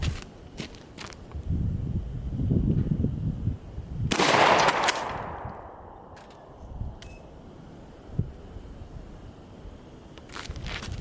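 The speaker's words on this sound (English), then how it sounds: "let's shoot the KSG 12 with the modified choke" A KSG 12 shotgun with a modified choke fires a single sharp blast that rings out and decays, with scattered footsteps and handling noises before and after.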